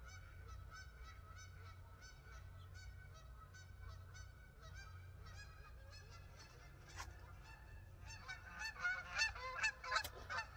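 Canada geese honking repeatedly at a distance, the calls growing louder and busier toward the end as the flock passes, over a low outdoor rumble.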